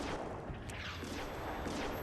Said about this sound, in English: there's explosions going off everywhere